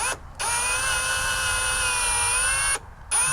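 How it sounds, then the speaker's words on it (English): A power drill whines at a steady high pitch while drilling holes to mount LED fog lights on a 2003 Ford F250, briefly stopping twice, close and loud. "So I need to drill."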